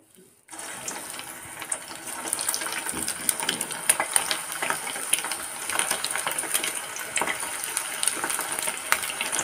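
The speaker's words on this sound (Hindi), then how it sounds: "आइए इनको फ्राई कर लेते हैं।" Egg kofta balls frying in oil give a steady, bright crackling hiss that begins suddenly and continues evenly throughout, close and moderately loud.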